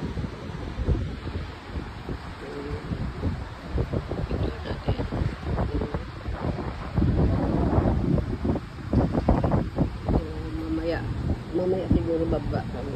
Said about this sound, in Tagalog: Hanginan. Ito daw mahangin.